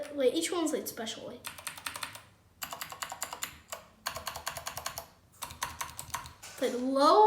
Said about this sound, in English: Like low, like high in the top, and then low in the bottom.